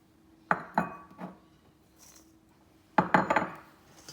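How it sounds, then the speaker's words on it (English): Dry Anzac biscuit ingredients stirred in a bowl: a few clinks and scraping clatters of a utensil against the bowl in two short bursts, close and quiet in between. "put your dry ingredients into the bowl, and what we'll do is we're going to stir them to combine them"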